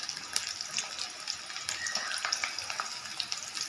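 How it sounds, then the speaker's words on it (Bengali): Chopped garlic and onion fry in hot oil in a home kitchen, a close, steady crackling sizzle with scattered sharp pops and faint stirring scrapes throughout, with no talking. "রসুন কুচো দিলাম, রসুনটা একটু ভাজা হোক"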